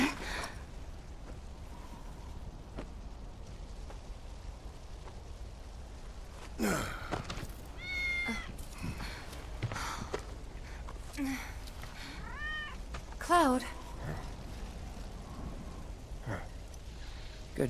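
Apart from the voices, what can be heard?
cat meowing in video game Final Fantasy VII Remake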